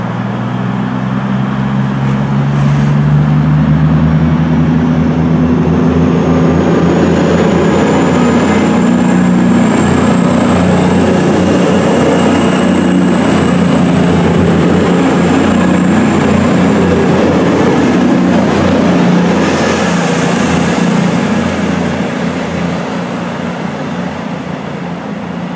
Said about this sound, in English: There goes 221-105, working the 1839 Virgin Super 4G service to London Euston via Birmingham Street.